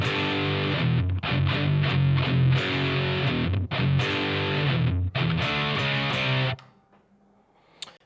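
Distorted electric guitar plays the pre-solo riff of a song at a slow tempo, loud chugging notes in steady phrases with brief gaps, ending in a sudden stop and near silence.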